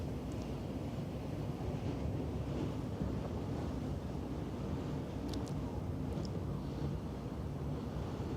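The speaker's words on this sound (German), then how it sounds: "Ist ein bisschen windig, wie ihr vielleicht hört, aber das ist wahrscheinlich in erster Linie Fahrtwind" Steady wind buffets the microphone on the deck of a ship sailing up the Elbe into Hamburg harbor, a constant low rushing roar with faint water and engine rumble beneath, no one speaking.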